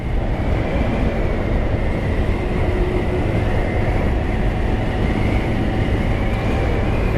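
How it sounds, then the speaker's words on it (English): A massive train rolls past in hot desert heat at Gila Bend, a loud, continuous, close rumble and grinding roar that holds steady the whole time with no voices. "There's a train, a massive train going somewhere."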